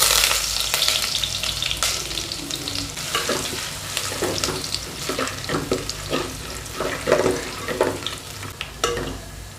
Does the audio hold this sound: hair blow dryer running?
no